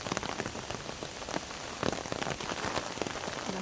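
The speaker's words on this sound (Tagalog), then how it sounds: "Ayan, maulan." Steady rain pattering on surfaces outdoors during a flooded, rainy morning, a dense continuous hiss of drops with scattered louder splashes and no voices.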